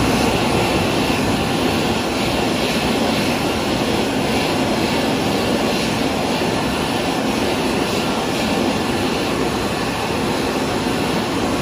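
A JD MacDonald Autobeam hand dryer runs in a Big W store at Watergardens shopping centre, Victoria, a loud steady blowing roar held close and unbroken throughout, with no voices.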